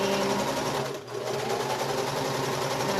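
A domestic sewing machine quilts through a queen-size quilt, its needle running in a fast continuous close whir, briefly slowing once before resuming at full speed.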